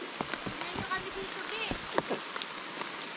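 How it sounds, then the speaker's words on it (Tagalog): Rain falls in a mountain setting as a steady broadband hiss with scattered drips and splashes, while people chatter nearby over it. "Umuulan na kasi."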